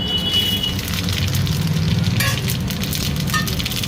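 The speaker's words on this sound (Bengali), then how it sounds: "তেল গরম হয়ে গেছে, তেলে দেবো জিরে," Cumin seeds, dry red chillies and a bay leaf hit hot oil while drumstick dal is being made: a steady, close, dense sizzle and crackle that holds at an even level throughout, with scattered sharper pops.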